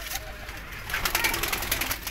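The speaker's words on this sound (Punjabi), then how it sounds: "ਅੱਛੇ ਵਜੂਦਾਂ ਦੇ ਕਬੂਤਰ ਵੇਖੋ ਮਾਸ਼ਾਅੱਲਾ" Pigeons coo softly in a loft, a low, faint burbling heard under someone speaking close by.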